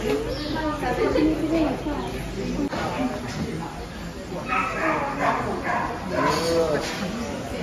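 A dog in Saint Lucia barks and yips in short bursts, fairly close, over a busy background with other voices and noise.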